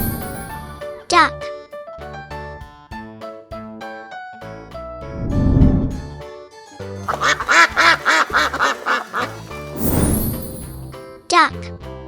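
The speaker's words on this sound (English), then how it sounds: "Duck." A duck quacks in a rapid run of short, nasal calls over cheerful music with chimes, set among a voice in a farm-animal learning song.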